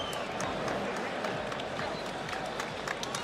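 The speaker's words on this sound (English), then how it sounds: "This crowd on its feet." A UFC arena crowd on its feet after a fight between Rose Namajunas and Joanna Jedrzejczyk, a dense wash of applause and cheering that holds steady throughout, with a commentator's voice talking over it.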